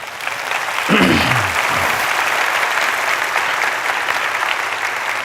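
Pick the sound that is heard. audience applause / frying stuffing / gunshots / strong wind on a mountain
audience applause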